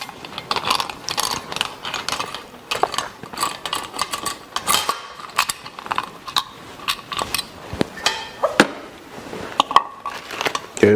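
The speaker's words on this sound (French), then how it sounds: "maintenant on va retirer la lampe avant avec la clé Allen de 5" A 5 mm Allen key works loose the front lamp on a Vélobecane electric bike, giving repeated metallic clicks and ratcheting ticks in an uneven rhythm, close and fairly loud, with scraping handling noises.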